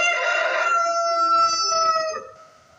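A rooster crows once, a loud, clear drawn-out call that fades at the end, close and alone without talk.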